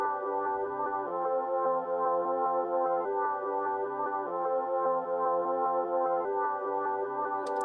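Synth melody loop that has been chopped, repitched and sped up, repeating a short tonal phrase in regular segments of about a second and a half, steady and clear with nothing else over it.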